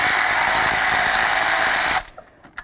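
A 10 millimeter socket wrench loosens a bracket bolt near the intake manifold of a Ford Crown Victoria, heard as a loud, steady ratcheting whir for about two seconds, then a few faint clicks.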